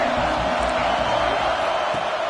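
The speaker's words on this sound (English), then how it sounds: "Here comes the noise from this big crowd in Happy Valley on 3rd down." Steady roar of a big stadium crowd at Happy Valley during a third down in a Penn State college football video game, a dense continuous wash of noise throughout.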